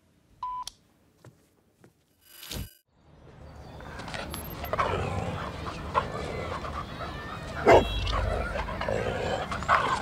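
A male dog barks and whimpers indoors after a few short electronic beeps, the yelps rising over a dense, steady background noise.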